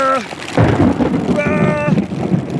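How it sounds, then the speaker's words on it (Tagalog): Thunder rumbles through steady heavy rain, heard from inside a car. A loud broadband roar swells after about half a second and holds, while a voice shouts brief exclamations at the start and again midway. "Ito tayo sa car guys at umuulan, kumukulog."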